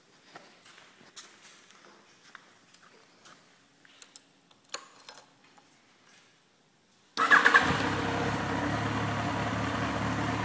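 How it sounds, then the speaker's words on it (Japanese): Faint ticks and shuffling give way to a Yamaha XJR1300 motorcycle engine cranking to life on its electric starter, then settling into a steady, loud rumbling idle that continues to the end. "セルスタートにて、えー、とてもスムーズにエンジン始動いたします"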